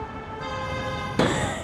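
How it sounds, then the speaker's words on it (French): A very long, sustained car horn blares close by in Paris traffic, one steady honk running the full length and growing louder near the end, heard from a motorcycle. "Putain, c'était le klaxon le plus long d'Europe"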